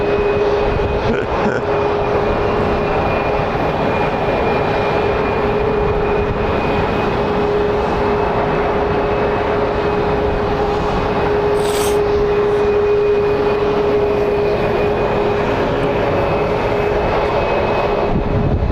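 A fixed-wing airplane at Phoenix Sky Harbor International Airport gives a steady, loud engine roar with a sustained tonal whine that holds throughout, close and continuous with no talking.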